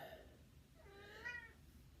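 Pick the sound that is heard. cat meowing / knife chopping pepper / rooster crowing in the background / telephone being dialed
cat meowing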